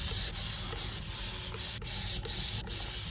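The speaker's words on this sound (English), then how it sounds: "I'm gonna spray this whole section first with water" A spray bottle mists water onto tangled curly hair, a steady hissing wash broken by a few quick dips between pumps, close and alone.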